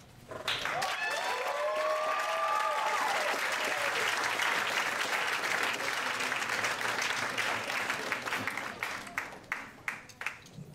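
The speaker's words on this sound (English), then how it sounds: "Can we give her another round of applause?" An audience at a poetry night bursts into sustained applause with a few cheers and whistles early on, the clapping thinning to scattered claps near the end.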